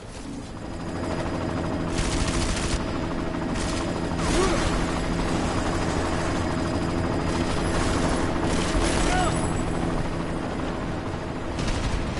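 Helicopter in a military shooter video game, a steady, loud rotor drone filling the scene throughout with scattered bursts of gunfire and mechanical clatter over it.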